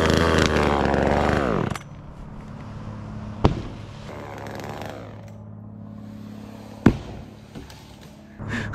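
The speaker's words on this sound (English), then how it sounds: "That's a big piece of wood for that saw." A chainsaw cuts into a big piece of wood. It starts with a loud engine roar that drops to a lower, steadier bogging drone, with a couple of sharp knocks, all close to the microphone.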